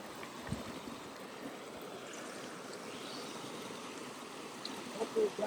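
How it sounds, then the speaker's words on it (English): A small river flows in a continuous close-up rush on a hiking trail, steady and even, with a few brief splashy bumps near the end. "Gotta cross this little river."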